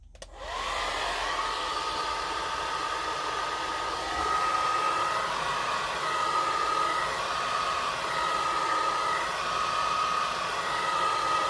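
A heat gun or hair dryer blows hot air onto the power supply of a PYE 20VR22 V2000 VCR. It starts with a click and holds a steady, close whooshing roar with a faint tonal whine for more than ten seconds, with no talk.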